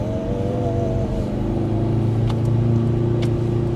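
A Mercedes-AMG car's engine revs while driving, heard from inside: a loud, continuous, rich growl climbing and holding at high revs, with a couple of faint clicks near the end and no speech.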